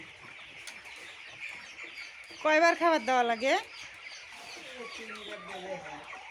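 Broiler chickens raised at home let out a short burst of loud, close clucks and squawks in the middle, then fainter clucking follows while a person talks.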